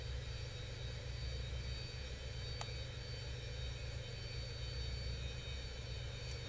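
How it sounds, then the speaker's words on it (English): Aircraft battery cooling fans spooling down after a flight from London Heathrow to Ibiza, a steady broad whir and hum with a faint low rumble, unchanging and with no talk. "You can hear the fans for the batteries are spooling down."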